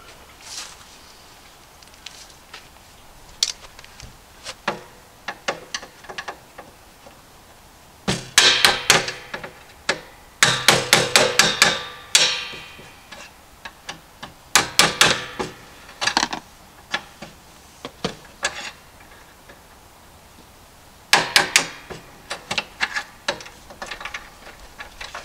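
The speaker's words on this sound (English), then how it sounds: "So let's go ahead and do the knockout on the panel." Bursts of sharp metallic hammer strikes ring out as a knockout is punched from an electrical panel for a generator hookup, coming in rapid clusters separated by quiet pauses and building to dense flurries of blows.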